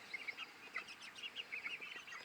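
Meat chickens kept outdoors in hoop buildings on a homestead cluck and chirp in quick, overlapping bursts, a busy close-up chatter of short calls with no talking.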